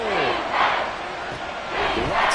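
A football stadium crowd in a football video game roars as one steady, swelling mass of cheering and shouting, with a commentator's voice briefly over it.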